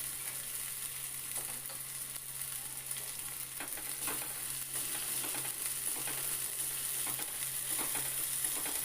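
Ginger paste fries in oil in a pan, a steady low sizzle with occasional soft scraping of a spatula stirring, close and continuous with no talking.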